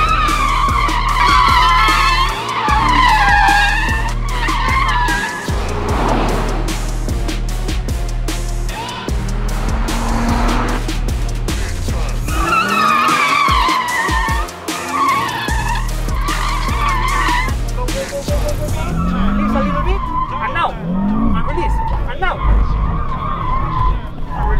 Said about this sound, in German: Der Drift war schon nicht so schlecht, ist aber gar nicht so leicht.